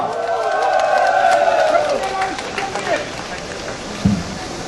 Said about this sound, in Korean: 진실을 밝혀달라고 끝까지 힘내시라고 뜨거운 격려 박수 한번 부탁드립니다